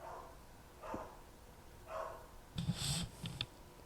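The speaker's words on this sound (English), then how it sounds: "God, that stupid dog." A dog barks several times at a distance, spaced single barks followed by a quicker double bark near the end, faint against a quiet background.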